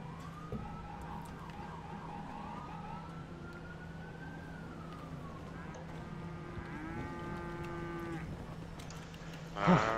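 Cattle in the video game GTA V moo in a few long, drawn-out calls over a quiet background, fairly close, with a short louder burst of sound near the end.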